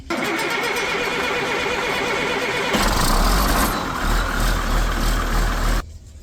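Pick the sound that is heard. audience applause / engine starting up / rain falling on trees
engine starting up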